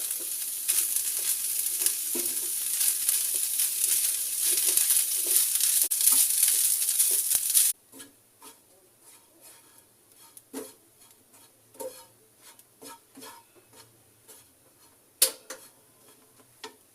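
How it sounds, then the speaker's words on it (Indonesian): Grated coconut is roasted in a pan for Sundanese serondeng. A loud, steady frying hiss runs for about eight seconds, then cuts off, leaving sparse ticks and light scraping from the pan in near quiet. "Sangrai kelapa yang udah diparut membuat serondeng."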